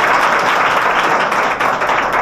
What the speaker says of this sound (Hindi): जिनका नाम पर एक ताली बजा दी